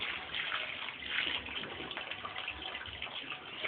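Water runs steadily from a tap in a home, a continuous splashing rush that stays loud and even throughout with no voices.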